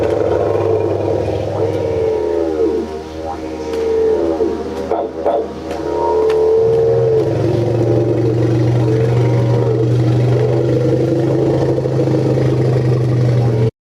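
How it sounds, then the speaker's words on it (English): A gas-powered engine runs steadily throughout, a loud, constant low drone with a mid-range hum, the pitch shifting slightly partway through. "some kind of a gas-powered engine"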